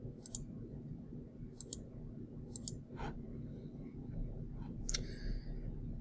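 A handful of sharp computer-mouse clicks, sounding singly and in quick pairs, come close and fairly crisp over a steady low background hum while the user works in animation software.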